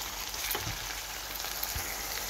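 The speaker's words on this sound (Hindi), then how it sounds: "अब हम प्याज को थोड़ा ब्राउन कर लेंगे, बहुत ज़्यादा हमने इसको ब्राउन नहीं करना, हल्का सा मिक्स सौते हो जाए।" Onions sauté in oil in a pan for a karela gosht (bitter gourd and meat) curry, giving a steady, close sizzle and crackle that runs unbroken throughout with no voices.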